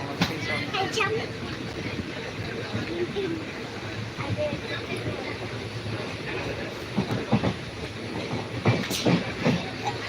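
A train rumbles along with a steady rolling clatter and hiss, faint voices mixed in over the continuous noise.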